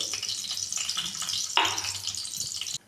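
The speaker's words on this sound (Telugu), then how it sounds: "ఇప్పుడు ఈ మిగిలిపోయిన ఆయిల్లోనే కొన్ని పోపు దినుసులు వేసుకోవాలి" Tempering spices sizzle in leftover oil in a pot while a stuffed brinjal masala curry is made, a soft continuous crackle with light stirring and one brief metallic clink.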